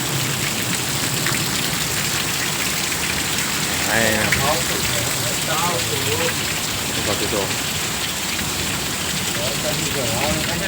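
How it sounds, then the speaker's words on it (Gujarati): Heavy rain pours down hard during a windy storm, a dense, loud, unbroken roar throughout, with someone talking over it. "ધોધમાર વરસાદ પડી ગયો મિત્રો"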